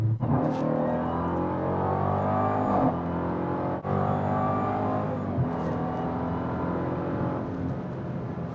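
A 2026 Dodge Durango SRT Hellcat's supercharged 710 hp engine pulls hard under acceleration, a loud, continuous roar heard from inside the vehicle with a brief dip near the middle as it keeps building.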